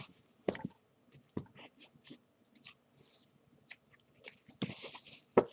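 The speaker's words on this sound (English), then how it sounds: "I'm going to shuffle the cards" Soft, scattered rustling and flicking of tarot cards being shuffled over about five seconds, with a few sharper riffling bursts near the end, fairly quiet and close.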